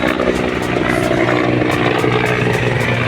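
Helicopter flying low over an expressway, a steady loud rotor and engine drone with a faint rhythmic beat, no talking.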